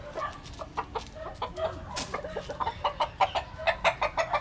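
A chicken clucks close by in a quick series of short, sharp calls that grow louder and more rapid toward the end, with no talking.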